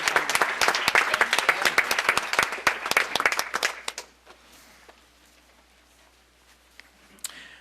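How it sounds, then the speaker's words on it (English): A town board meeting audience applauds a neighborhood association with a burst of crisp, close clapping that fades out after about four seconds, leaving a quiet room with a few stray sounds and one late clap. "give a round of applause to the Pardee Hill Neighborhood Association"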